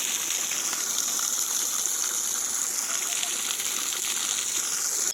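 Well water from a solar-powered pump gushes in a steady, continuous rush at close range, a bright broadband hiss that never lets up for the whole stretch, with no voices over it.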